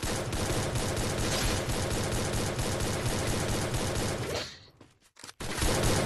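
Rapid automatic gunfire from a shooting video game, dense continuous bursts at high volume that drop out briefly near the end, then resume.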